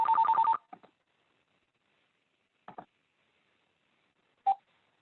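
An automated callback dials out in a quick burst of telephone tones, followed by two brief clicks and a single short beep spread apart across stretches of silence.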